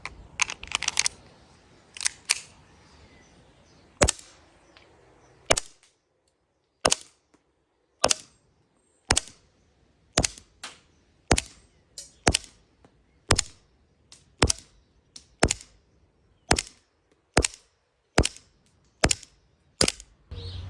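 Green gas airsoft Luger P08 pistol firing BBs: a long series of sharp, regular cracking shots about a second apart, loud and close, with no talking.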